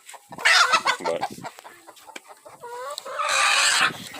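Chickens from a flock of about 125, including broody hens, cluck and squawk nearby in overlapping bursts, some calls rising into louder drawn-out cackles.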